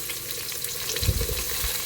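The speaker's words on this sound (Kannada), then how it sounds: "ಇವಾಗಲೇ ಈರುಳ್ಳಿ ಮತ್ತು ಟೊಮೆಟೊ ಏನು ಕಟ್ ಮಾಡ್ಕೊಂಡಿದ್ದೀನಿ ನೋಡಿ, ಅದನ್ನು ಇವಾಗ ಆ್ಯಡ್ ಮಾಡೋಣ ಇದಕ್ಕೆ ಒಗ್ಗರಣೆಗೆ" Chopped onion and tomato dropped into hot oil tempering for a North Karnataka chicken curry, a steady close sizzle that swells into louder frying crackle as the vegetables hit the pan.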